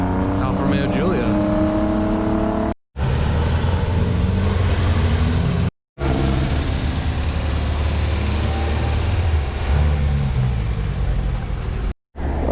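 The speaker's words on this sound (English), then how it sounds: "nice sounding Alfa Romeo Giulia" A steady mid-pitched engine note from an Alfa Romeo Giulia at a Malibu Cars & Coffee gathering, running continuously at a loud, close range with brief cut-outs and faint crowd voices underneath.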